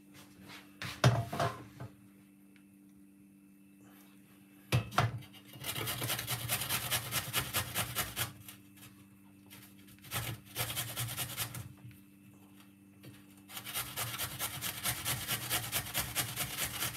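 Organic ginger is rubbed against a grater in repeated rasping bursts, each lasting a few seconds, with brief knocks and quiet pauses between them, heard up close.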